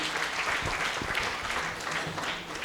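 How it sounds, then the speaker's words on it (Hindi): An audience at a poetry gathering gives a warm round of applause welcoming a young poet from Lucknow, dense and steady throughout. "मैं चाहता हूं कि ज़ोरदार तालियों से आप उनका इस्तकबाल करें"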